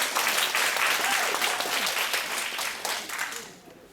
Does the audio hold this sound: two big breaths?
no